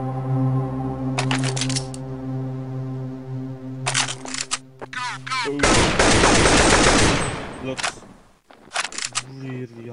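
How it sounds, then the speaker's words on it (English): AK-47 rifle fire in Counter-Strike 1.6, heard as short loud bursts of automatic shots spread across the stretch, with one longer sustained volley in the middle, over a steady game background hum. "I just want to show you guys AK-47."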